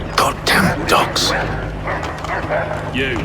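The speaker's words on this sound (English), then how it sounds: "Goddamn dogs." Dogs barking in Assassin's Creed III, several sharp yelps and barks mixed with shouting soldiers and battle noise, loud and close under talk.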